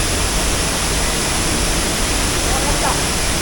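Mayang Falls in Trece Martires, Cavite, pours steadily at night: a dense, continuous broadband roar of falling water, loud and unbroken, with faint voices murmuring beneath it.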